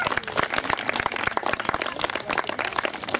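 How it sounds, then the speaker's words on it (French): An audience applauds a taekwondo athlete who placed third at the French championship: dense, steady clapping from a crowd that holds for the whole stretch, with almost no voices. "on peut l'applaudir"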